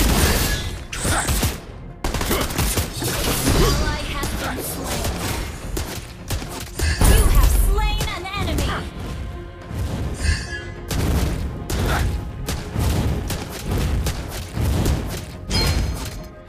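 Gunfire and explosive booms in the Mobile Legends mobile battle game, with dense, continuous bursts of shots, thuds and crashes layered over busy game effects for the whole stretch.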